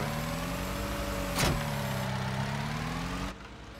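A Manitou telehandler in Farming Simulator 19 hums at a steady engine drone with tonal whine, one brief whoosh near the middle, then the sound drops in level near the end.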